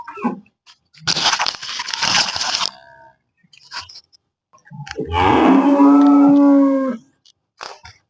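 A long, drawn-out moo from an HF or Jersey cow rises and holds for about two seconds, following an earlier burst of rough noise and a few short knocks.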